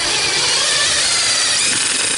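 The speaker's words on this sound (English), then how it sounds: "I just take my impact and I take one of these self-tapping screws" An impact driver sinks a self-tapping metal screw into a rod holder, giving a loud, steady, harsh mechanical whir that runs unbroken for about two seconds, close by and alone.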